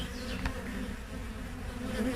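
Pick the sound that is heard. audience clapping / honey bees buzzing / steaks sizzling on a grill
honey bees buzzing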